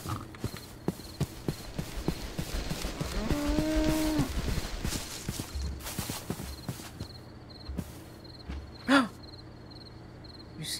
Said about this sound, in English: the cow is making a lot of noise